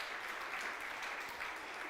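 Audience applause at an Easter youth church service, a dense, steady patter of clapping from a crowd filling the short stretch without a break.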